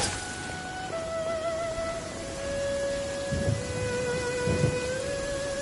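Soft, steady rainfall in Genshin Impact patters evenly in the background, faint and continuous beneath sustained tones from the game.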